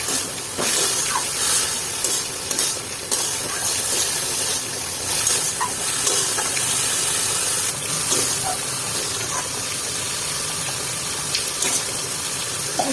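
Banana flower curry is sautéed in a pan with hissing, steamy sizzle, a steady frying noise that goes on without break, with faint clinks of a spoon now and then.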